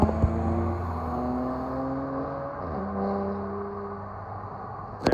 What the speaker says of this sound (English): There, that's 6-cylinder. It sounds really good.